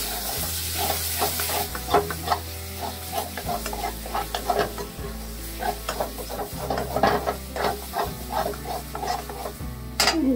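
Spice masala cooks in oil in a pan for baingan bharta, a loud constant sizzle broken by repeated scraping strokes of a spoon against the pan, close and without speech.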